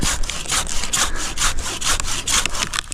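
A hand saw cuts through a large tree trunk in Edmonton, Alberta, with quick, regular back-and-forth strokes. The rasping of wood is loud and close, about three strokes each second, with no voices.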